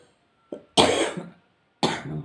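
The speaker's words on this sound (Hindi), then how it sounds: "सॉरी, खांसी हो गया है।" Two bursts of coughing from a nearby speaker: a short hack, then a longer harsh cough, a pause, and a third cough at the end, with no talk over them.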